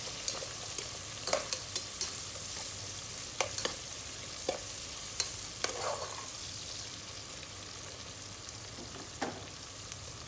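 Onions fry and get stirred in a pan for a sweet mango curry, a soft, continuous sizzle broken by sharp spatula clicks and scrapes at irregular intervals, heard close with no voices.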